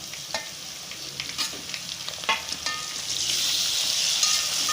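Tomatoes go into a pan of frying onions, giving a steady close sizzle with scattered scraping and stirring knocks of a spoon, the sizzle swelling louder toward the end.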